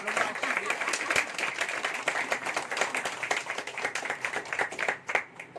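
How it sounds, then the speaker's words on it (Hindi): A church congregation claps during a Hindi worship service: quick, dense hand claps rising and falling steadily, filling the room for several seconds. "Hallelujah, hallelujah. ताली बजाइए।"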